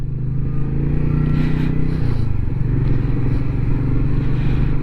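A Royal Enfield Meteor 350 motorcycle, just back from a service, rides along on a freezing morning at minus one degree, its engine a steady, close, thumping drone throughout with faint clatter.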